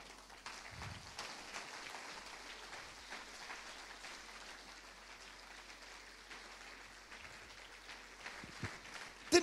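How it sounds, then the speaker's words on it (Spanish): A church congregation claps in a spread-out patter of applause, fairly faint and distant, lasting several seconds before a sharp sound at the close. "Denle un aplauso al Señor."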